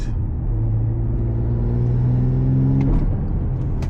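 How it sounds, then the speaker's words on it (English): Interior of a BMW M340i under acceleration: a loud low engine rumble and whir with a buzzing rattle running through the cabin, rising steadily before easing off, with no talking. "when you accelerate, it's like a complete bumblebee ass rattling noise"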